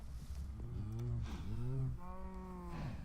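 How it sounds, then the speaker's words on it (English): Cows in a Minecraft-style video game base lowing repeatedly, several long drawn-out moos overlapping one after another, close and clear over a steady background hum. "Which we've been working on keeping the amount of cows down now."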